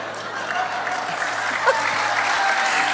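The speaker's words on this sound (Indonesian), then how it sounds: "Nggak usah tepuk tangan, nggak penting." Audience applause at a sermon, a steady wash of clapping from a crowd filling the whole stretch at an even level.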